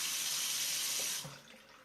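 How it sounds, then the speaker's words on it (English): A kitchen tap runs steadily after a water ionizer has been installed, a bright splashing stream that cuts off and trails away into quieter drips and room sound. "water still comes out like normal"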